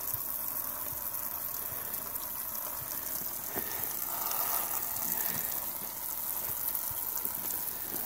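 Water gushes steadily from a hose into a multipurpose bucket used for purging crawfish, crab or lobster, a continuous close hiss and splash with faint background noise and no talk.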